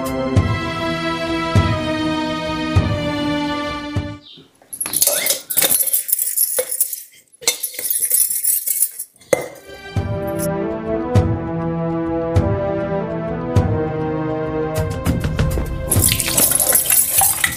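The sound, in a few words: washing dishes at a sink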